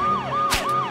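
An ambulance siren wails in a cartoon hospital scene, a loud, close, steady rising-and-falling electronic tone filling the whole moment, with no talk over it.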